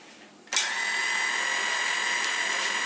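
A stand mixer switches on and runs on low speed mixing salt into flour for sandwich bread, a sudden start followed by a steady, close, whining motor drone with no talking.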